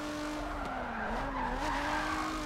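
Car tires skidding through a long handbrake drag while drifting, grassroots style, heard from the wheel. A steady droning screech holds for the whole stretch over the engine's wavering tone, close and loud with no talk.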